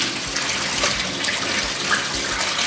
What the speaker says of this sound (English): So what we're going to do is wash this cabbage now.